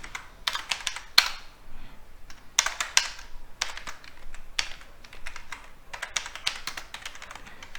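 Fingers typing on a computer keyboard, irregular bursts of quick clicky keystrokes with short pauses between them, close and fairly quiet, no speech.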